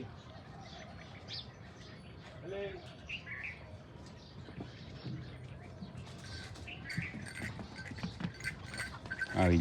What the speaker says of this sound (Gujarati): મૂક્યું છે પોપટલાલ જો સરસ મજાના બેસી ગયા છે.